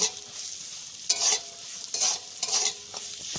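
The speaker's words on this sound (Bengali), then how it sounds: "রসুন কাঁচা লঙ্কা পেঁয়াজ কুচি হলুদ লবণের সঙ্গে কালো জিরার সঙ্গে খুব ভালো করে ভেজে নিয়েছি" Garlic, onion and green chilli stir-fried with black cumin, salt and turmeric: a quiet sizzle broken by four distinct scraping strokes of a spoon in the pan, spaced about a second apart.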